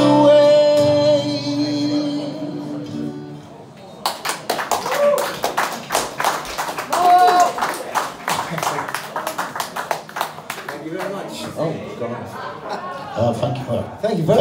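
An audience applauds a singer after a live rock-and-roll performance, clapping steadily with the sound fading near the end.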